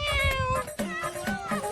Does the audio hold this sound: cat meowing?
yes